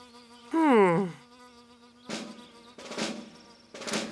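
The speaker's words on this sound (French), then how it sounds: "Des soldats royaux vinrent soudain bourdonner autour d'eux." Cartoon royal soldier bees buzz around two small characters, an opening whining drone that bends in pitch, then several shorter buzzing bursts, fairly close and alone without speech.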